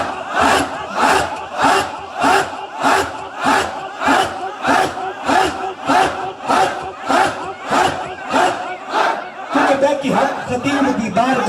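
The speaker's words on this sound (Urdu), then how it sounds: "دونوں ہاتھ بلند کیجئے گا اور مل کے کہیے گا حق حق حق حق" A large crowd at a religious gathering at a shrine in Kallar Syedan chants "Haq" together with hands raised, repeating it in loud, regular rhythmic shouts about every half second for over ten seconds.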